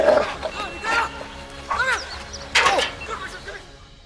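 An adolescent Dutch Shepherd in combat-dog training barks and yelps several times, sharp, close barks in bursts separated by short pauses.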